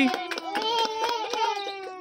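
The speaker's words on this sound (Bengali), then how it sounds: "হাততালি" Hands clap repeatedly in quick, sharp bursts at a family prize game, mixed in with voices and a harmonic, sung or spoken tone running throughout.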